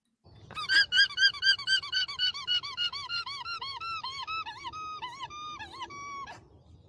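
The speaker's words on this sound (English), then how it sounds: "It's an alpaca." An alpaca call plays as a rapid series of high, rhythmic squeaks like a squeaky dog toy, about a dozen pulses slowing into longer whistled notes before stopping, clear and alone.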